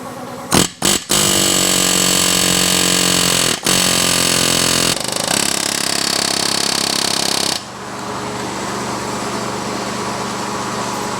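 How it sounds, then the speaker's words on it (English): A pneumatic air hammer pounds on a rusted hydraulic cylinder gland during a rebuild, a loud continuous rattling burst broken by brief pauses, running steadily up close with no talk. "So I got it moving using the air hammer"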